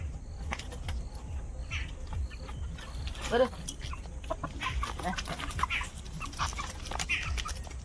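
Chickens on a rural Sundarban homestead cluck intermittently at moderate distance amid outdoor background noise, with a few sharper calls standing out.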